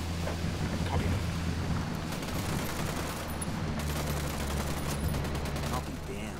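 Sustained, dense gunfire in Ghost Recon Wildlands, rapid crackling shots blending into a continuous roar over a low engine-like rumble, with voices faintly underneath.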